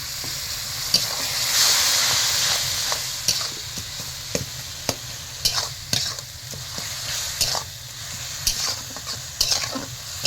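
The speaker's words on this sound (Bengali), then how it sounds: "এবার আমি একটু জল দিয়ে মশলাটা একটু এটাকে ভাজবো" Spice paste with a little water frying in a pan while a spoon stirs it, a steady close sizzle broken by regular scraping knocks of the utensil against the pan, with no talk.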